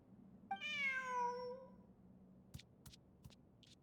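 A single drawn-out meow from a cat in a video game rises and falls over about a second, followed by a few soft clicks in otherwise quiet surroundings.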